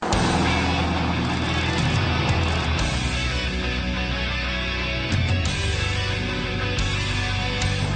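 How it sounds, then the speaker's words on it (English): A car with a 4-litre twin-turbo V8 producing 521 brake horsepower drives on the road, its engine a steady dense roar with shifting tone and a brief dip, loud and continuous throughout. "Under the bonnet is a glorious 4-litre twin-turbo V8 producing 521 brake horsepower"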